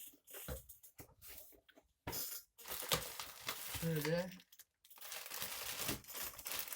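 Plastic packaging crinkles and rustles as it is opened, close irregular crackling in bursts separated by short pauses, with someone talking intermittently over it.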